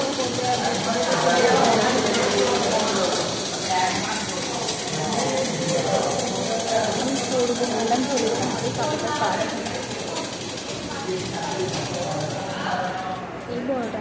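A sewing machine stitching a petticoat, a steady mechanical whir with a fast rattling rhythm that runs through the whole stretch under someone talking.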